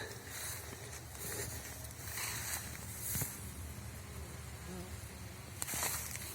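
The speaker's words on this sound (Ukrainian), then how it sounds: "які активні бджоли" Honey bees buzzing around the hives of an apiary beside a hazelnut orchard, a steady, fairly faint swarm drone with occasional closer passes, no talk.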